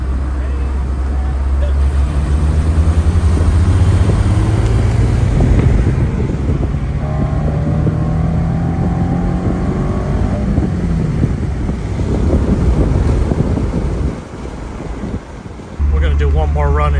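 A Honda S2000 with a titanium twin loop exhaust pulls in 4th gear at low revs, a loud, steady low exhaust drone with a slowly rising tone and wind rush, close to the microphone, cutting out briefly near the end.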